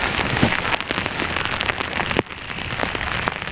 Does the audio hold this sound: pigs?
no